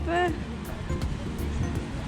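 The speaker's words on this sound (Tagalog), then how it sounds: "Maalo ng tubig. Dagat." Sea waves wash at a seaside campsite in Fukui, a low continuous rumble of rough water heard up close while people talk over it.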